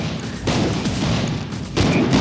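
Gunfire and booming shots in the video game Van Helsing, a dense continuous barrage of loud blasts with a heavier burst near the end.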